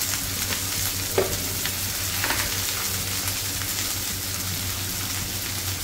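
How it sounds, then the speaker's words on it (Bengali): Chopped onion frying in a pan with a steady, close sizzling hiss that continues unbroken throughout, with a few faint stirring knocks and no voices. "আর দিয়ে হচ্ছে পেঁয়াজ কুচি।"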